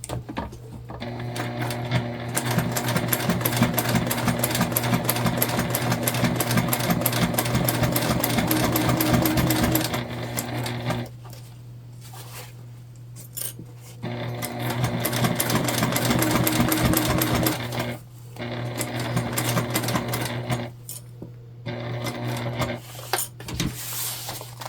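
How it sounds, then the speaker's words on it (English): Sewing machine stitching a seam on a bag, running in long steady bursts with short pauses between runs, close and clear with no talk. "We're gonna come down one more stitch here."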